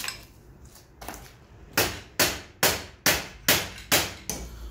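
A motorcycle rear shock absorber is hammered into its mount on a Yamaha R3 or MT-03 project bike, giving about seven loud, sharp metallic blows. The first strikes come at uneven intervals, then they settle into a steady rhythm, close by and with no talk.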